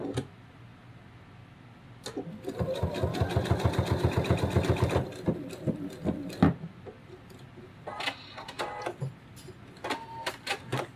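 Sewing machine stitching plush pieces for a flamingo floaty toy, joining a beak piece to the face in a short rapid run, followed by scattered clicks and handling noises, close and fairly quiet.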